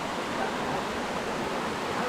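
Cliff Raven waterfall pours over erosion-resistant rock, a steady broadband rush of falling water that stays constant and fairly close.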